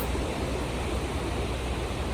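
Steady wash of sea waves at a beach on a clear day, a broad, even surf hiss heard at moderate distance with no talk.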